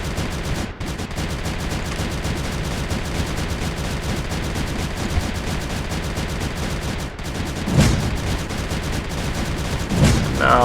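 Weapons in the strategy game Creeper World 3 fire in a continuous rapid clatter of shots, with a couple of heavier bursts toward the end and a voice talking faintly underneath.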